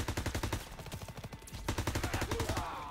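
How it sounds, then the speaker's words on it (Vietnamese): Rapid automatic gunfire from a World War II first-person shooter, Call of Duty WWII, with dense bursts of repeated shots continuing loudly through most of the stretch and a brief dip midway. "Bắn khá đã các bạn ạ."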